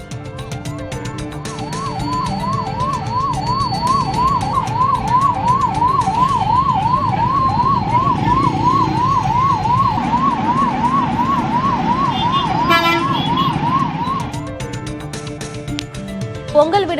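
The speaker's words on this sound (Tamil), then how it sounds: "திண்டுக்கல் நோக்கி சென்ற 108 ஆம்புலன்ஸ் வாகனம் ஒன்று நெரிசலில் சிக்கி தாமதமானது" A 108 ambulance stuck in a traffic jam near a toll plaza during heavy holiday traffic sounds its wailing siren loud and close, the rising-falling cycle repeating fast over engine rumble before it cuts off near the end.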